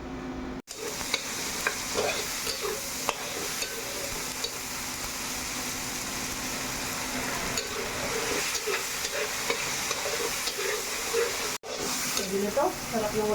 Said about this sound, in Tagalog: Prito na tayo ng dulong